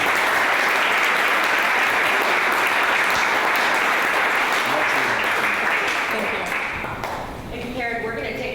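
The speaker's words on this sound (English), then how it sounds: "Can we give our panelists a round of applause?" An audience at a panel event applauds its panelists with loud, dense clapping for about seven seconds, then the applause tapers off as a voice begins speaking.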